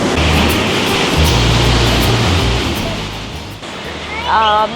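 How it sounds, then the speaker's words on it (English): The Rhine Falls in Switzerland roars loud and close in a dense, continuous rush of heavy falling water. It eases slightly near the end as a voice briefly comes in. "This is like the Switzerland side of Rhine Falls."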